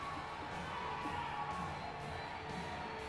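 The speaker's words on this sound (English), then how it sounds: "if you didn't guess by the noise of the crowd" Crowd cheering and shouting in an arena at Paralympic powerlifting in Rio, women's 67 kg event, as a Brazilian lifter takes the stage; steady, moderately loud crowd noise throughout without clear individual voices.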